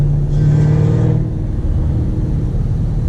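A supercharged Shelby GT500 with aftermarket exhaust rumbles loudly up close, a deep throaty engine note swelling briefly as it revs and then settling into a steady heavy drone.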